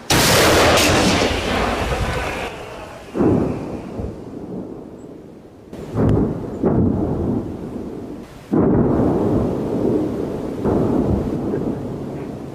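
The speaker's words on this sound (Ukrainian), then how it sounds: "Постріл!" Several heavy booming artillery blasts, loud and rumbling, each decaying slowly, with about three or four distinct impacts spread across the clip.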